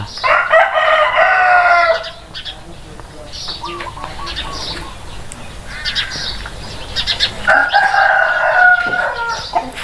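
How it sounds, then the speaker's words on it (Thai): A rooster crows loudly several times, long stretched calls near the start and end, with softer clucking and rustling between. "จะมีเสียงไก่ขันนงเพื่อน"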